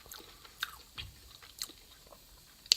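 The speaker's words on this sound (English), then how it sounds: "I hope the chewing sounds and the swallowing and all that is good for your ASMR." Close, quiet chewing and biting of Singapore mei fun noodles during a mukbang, a few soft crunchy bites spaced irregularly with a sharper one at the end, no talking.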